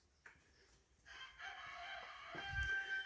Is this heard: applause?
no